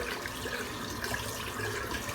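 A shaving brush rinsed of Barrister and Mann soap under a running tap, a steady hissing stream of water flowing continuously and fairly quietly throughout.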